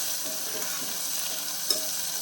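Onion and tomato sauté in a pan while dal rice is cooked, a soft, even sizzling hiss with light stirring noises and one small sharp click.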